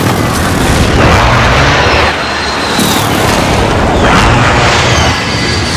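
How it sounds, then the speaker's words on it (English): Airstrike explosions in Call of Duty Warzone roll out as a loud, sustained wall of booming blasts, with several heavy impacts overlapping into a continuous rumble. "Watch out, I'm dropping an airstrike right there."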